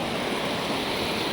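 A river flowing at close range, a dense, steady rush of water that fills the short stretch evenly with no voices.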